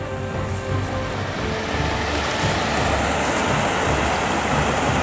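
Broadband rushing water flows steadily beside a river near a lake amid wild vegetation, loud and continuous with wind buffeting the microphone, with no talking.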